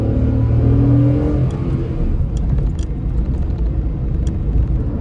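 A car on the road gives a close, steady engine and tyre drone with a rising, revving surge early on, then settles into a constant rolling rumble with a few light rattles.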